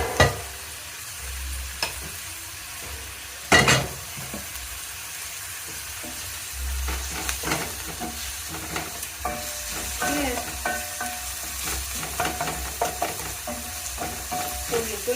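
Onion frying in a pan for a chicken stew, with a steady sizzle and occasional stirring clatter and scrapes, a couple of sharper knocks near the start, close and without talk.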